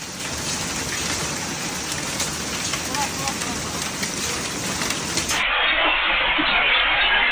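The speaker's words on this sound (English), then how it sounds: "bringing thunderstorms, strong winds, localized heavy rainfall, and scattered hail" Heavy rain and hail pour down during a severe thunderstorm in Beijing, a loud, steady hiss and patter that runs through the whole clip with no voices.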